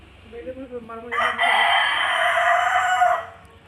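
A Punjabi Aseel rooster in a coop lets out one loud, sustained crow lasting about two seconds, close and dominant, after softer clucking from nearby fowl.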